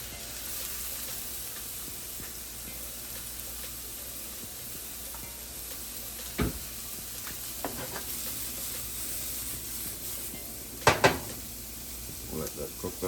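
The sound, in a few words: cabbage and vegetables sizzling as they cook in a pan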